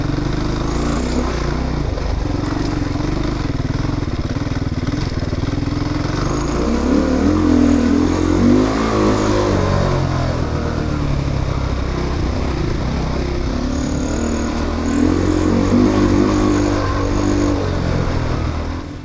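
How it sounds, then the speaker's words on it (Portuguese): Off-road motorcycle being ridden and revved, the engine rising and falling in repeated throttle blips with a steady rasping drone, close and loud throughout. "Vamos montar na moto, dar uma gazada"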